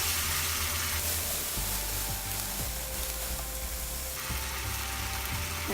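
Pomfret curry with poppy seed paste being mixed in a pan over medium flame: a continuous loud sizzle close by, with soft scraping stirs through it.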